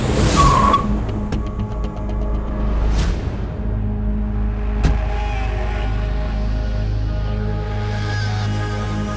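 A car brakes hard to a stop with a sharp tire squeal and skidding screech, followed by further squeals and a low idling rumble, with no talking.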